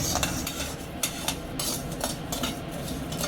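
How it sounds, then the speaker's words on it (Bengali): Dry rice grains being stirred and scraped around a hot pan, a steady close rustle broken by sharper clinks of the spoon against metal. "চালটা ভেজে নি"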